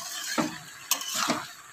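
Food frying in a home kitchen pan, a quiet steady sizzle broken by a few scraping stirs and light utensil knocks against the pan.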